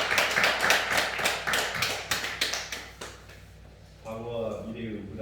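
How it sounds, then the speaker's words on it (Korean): A burst of scattered clapping from a small church congregation, dense at first and thinning out, then a voice begins speaking in Korean. "박수로 하나님께 영광 돌리겠습니다"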